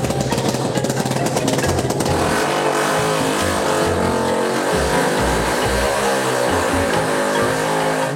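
A BMW C1 scooter fitted with a nitro kit revs hard and spins its rear tyre in a burnout, a loud continuous engine roar with rising and falling pitch and a gritty tyre scrub.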